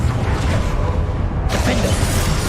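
A fiery Confringo blast spell from Hogwarts Legacy erupts midway with a sudden bright whooshing burst over a constant rumbling game background, no one talking.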